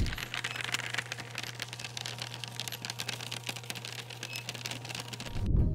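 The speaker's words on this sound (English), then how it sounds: "Oh, a paper shredder." A paper shredder runs continuously, a steady motor hum under dense rapid rattling and crunching as paper is cut, ending abruptly.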